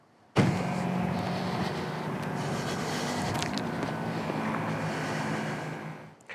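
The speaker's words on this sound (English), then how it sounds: "you can just press a button and get things lowered perfectly" Air suspension on a VW camper van lowering at the press of a button, a steady electric whirring hum that starts abruptly and runs evenly for several seconds before cutting off.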